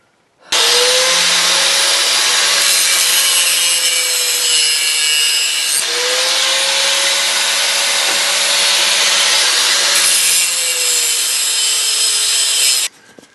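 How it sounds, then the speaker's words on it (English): A metal rear seat panel on a Duster is ground down by a power grinder, a loud, continuous abrasive whine lasting about twelve seconds, its pitch dipping and rising slightly as the tool bears on the metal, then cutting off. "I've been out here grinding and fitting and grinding and fitting, and I finally got it in."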